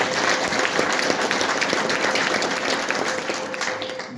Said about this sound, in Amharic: ጭብጨባ ለጌታ።